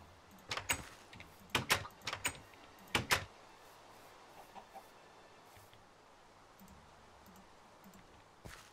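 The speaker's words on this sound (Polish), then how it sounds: "Dobra, zostawimy tego kurczaczka" A series of short, sharp clucks from a Minecraft chicken comes in quick bursts, then a few fainter clucks follow over a quiet background.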